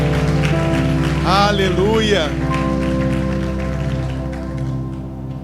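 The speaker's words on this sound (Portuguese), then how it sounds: "Dê uma grande salva de palmas ao Senhor" Congregation clapping in an evening church worship service, a rain-like patter of applause beneath sustained keyboard music, with a single voice briefly calling out over it.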